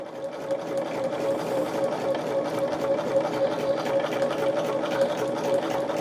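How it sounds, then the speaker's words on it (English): Sewing machine running steadily as it stitches along a marked center line on a fabric piece, a continuous close-up whir with a steady mechanical hum; the needle may sound worn. "what I will do is sew right on that line"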